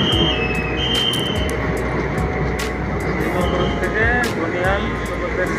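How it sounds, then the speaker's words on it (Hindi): A passenger train arrives at Srinagar railway station with a steady loud rumble of rolling cars, faint wheel squeals and clanks, while someone speaks over the noise. "तो चलो ट्रेन आ गए"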